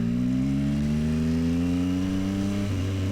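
A Yamaha MT-09 SP motorcycle engine drones loudly while riding, a steady rising tone with strong harmonics that shifts down briefly near the end.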